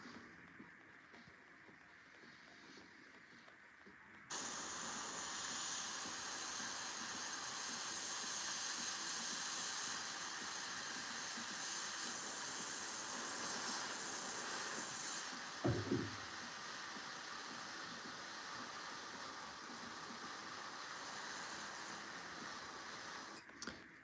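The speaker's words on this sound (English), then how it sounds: "I have to really squeeze the airbrush in my fingers to be able to have very sharp control on the trigger." Airbrush spraying paint onto a Warhammer miniature, a steady close hiss that starts abruptly and runs continuously, with a brief low thump partway through.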